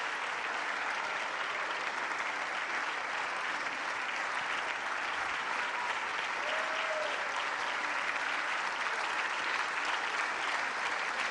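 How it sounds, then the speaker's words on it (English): Long, even applause spreads across the chamber of the Italian Senate during the prime minister's address before a confidence vote, a dense wash of many hands clapping with a faint murmur beneath. "you can see there applause from what looks to be right the way across the"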